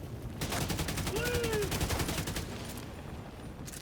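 Rapid automatic gunfire from a first-person shooter game, a dense burst of evenly spaced shots lasting about two seconds, loud and close, then fading into quieter game ambience.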